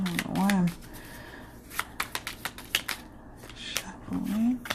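A deck of oracle cards is shuffled in a quick run of crisp, fluttering snaps and taps between stretches of someone talking.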